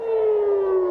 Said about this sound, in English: Sirens sounded in Tel Aviv soon after the US attacks